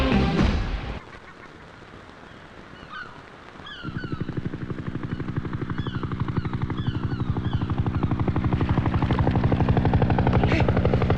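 A helicopter flies overhead in a movie scene. A steady, rhythmic rotor chop builds after a quieter start and keeps going loud and continuous, with no voices.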